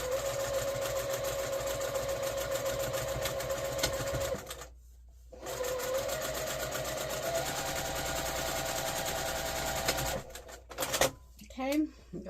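A sewing machine back-stitches the seams of a reusable heat pack cover with a steady, rapid mechanical chatter. The stitching pauses briefly and then resumes, and a voice talks over it.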